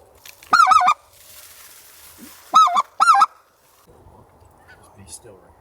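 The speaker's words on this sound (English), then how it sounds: "Geese on the right." Canada geese honk loudly and close by in a waterfowl hunting setting in Alberta, three sharp bursts of calls, with two quick honks near the middle following an opening call, over quiet low background rustle.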